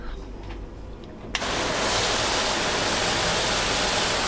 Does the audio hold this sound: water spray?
yes